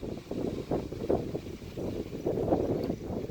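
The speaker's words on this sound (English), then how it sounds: "If the wind is loud on my video, I do apologize" Outdoor wind buffets the microphone with low, uneven rumbling gusts that swell and ease across the few seconds, moderately loud with no clear voices.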